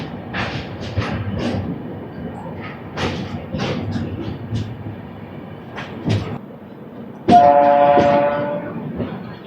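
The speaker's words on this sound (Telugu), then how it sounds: "మన ట్రైన్ హార్న్ అది షిర్ల్ హార్న్." Onboard the Secunderabad AC Superfast Express 12783, running Visakhapatnam to Secunderabad: rhythmic wheel clatter and rumble give way to a loud, sustained horn blast near the end, lasting about two seconds.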